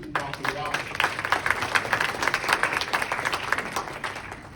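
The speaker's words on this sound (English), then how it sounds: "please give them a round of applause" An audience at a town hall applauds city staff, with dense, steady clapping that swells quickly and holds for several seconds before thinning slightly.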